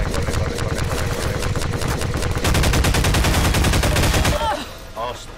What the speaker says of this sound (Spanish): Esa ametralladora de mierda.